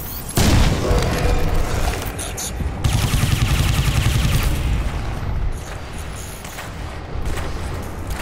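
Grenade blasts in Crysis 2 gameplay, a loud boom at the start followed by rumbling and bursts of gunfire, a second heavy impact partway through, and a continuous din of combat.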